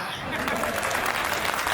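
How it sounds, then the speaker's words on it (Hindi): Audience applause at a Hindi comic poetry recital, a dense, steady wash of many hands clapping that runs the whole moment at a fairly loud level, with no talk over it. "तालियां भरपूर बजाइएगा"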